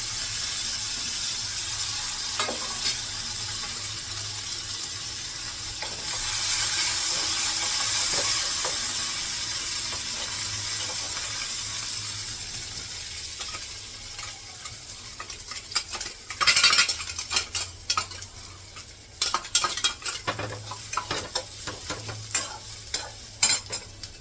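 Chopped coriander frying in a little oil for a spicy peanut chutney, a steady close sizzle that surges partway through, then stirring clatter and utensil scrapes toward the end, with no talking.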